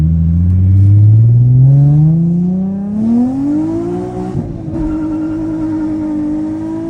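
A Nissan 350Z with a tired body accelerates after a wheel alignment, its engine note climbing steadily in pitch through a gear, dipping at a shift, then settling into a steady cruising drone, loud and close from inside the car.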